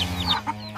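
A mother hen clucks sharply while standing her ground against an eagle, several short agitated clucks in quick succession, close and fairly clear.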